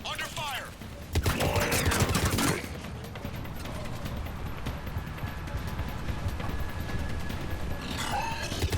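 Heavy gunfire in a Mass Effect 3 firefight: a loud dense burst of shots early on, then sustained rattling fire and mechanical clatter continuing steadily in the background.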